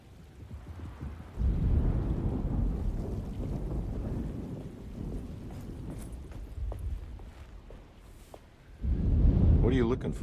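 Rain and rolling thunder from a storm in the game Alone In The Dark, a broad low rumble swelling loud at the start and again near the end over steady rainfall.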